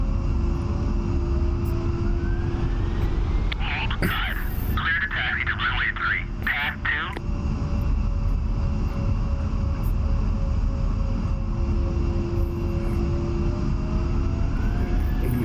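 Twin jet engines of an A-10 idle, spooled up for taxi in the DCS flight simulator. A steady, loud whining drone runs throughout, with a brief burst of warbling, chattering tones near the middle.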